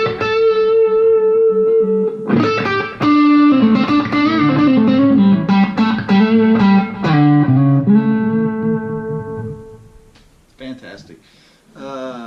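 Late-1962-reissue Telecaster on its neck pickup, made in Japan, run through a Kemper Profiler for a country tone: loud, clean twangy guitar phrases with fast runs and bends, alone, tapering into a quieter lick near the end.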